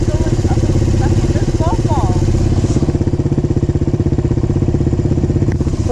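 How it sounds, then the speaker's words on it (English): An off-road vehicle engine labors steadily in first gear up the Willow Creek Trail in California, a loud continuous throbbing drone with rattling clatter, close and unbroken throughout. "You can go up it slowly in first gear."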